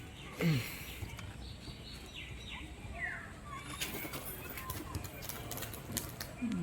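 A Giribaz pigeon in flight making sharp, cap-like cracking wing claps in quick bursts, faint and distant, with flapping and people talking softly nearby.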